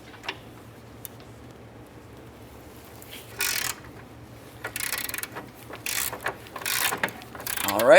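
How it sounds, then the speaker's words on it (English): A wrench working loose the rear strut bolt on a 2006-2010 Ford Explorer, giving a few close metallic ratcheting and clicking bursts over a low steady hum. "I'll use my wrench on the inboard aspect right there, and then we'll start loosening the bolt."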